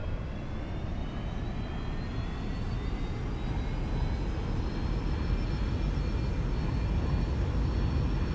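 Airplane engines of a Boeing 747 throttle up in the X-Plane 11 flight simulator, a loud, steady broadband roar with a faint rising whine that builds gradually, with no talking.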